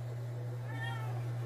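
A cat gives a single short, fairly faint meow indoors, set against a steady low hum.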